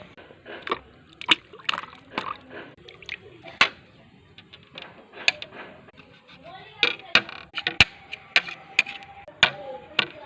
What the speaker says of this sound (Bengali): তো চলো ধুয়ে নিয়ে আমগুলো